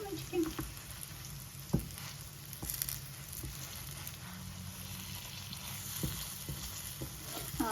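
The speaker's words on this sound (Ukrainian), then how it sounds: "Викладаємо сирнички на підігріту олію і смажимо з двох сторін." Quiet frying crackles and sizzles as cottage cheese pancakes (syrnyky) cook in heated oil, with scattered pops and clicks over a soft steady hiss.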